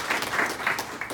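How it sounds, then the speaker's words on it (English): Short burst of audience applause for an engineering speaker being introduced at a mobile augmented reality panel, a brief patter of clapping hands at moderate level with no talking. "Can we give a round of applause to Nicholas?"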